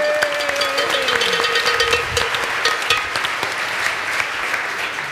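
A crowd applauds loudly and continuously, with a few cheers rising over the clapping.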